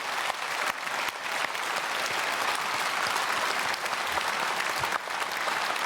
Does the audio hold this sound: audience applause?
yes